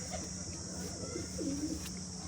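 Pigeons coo softly, a couple of low rolling calls rising over a steady background hum.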